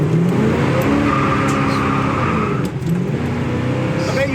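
A 1970 Chevelle SS 454 V8 accelerates hard through the gears, the engine roaring loud and close from inside the car with rising revs and a brief dip at a shift.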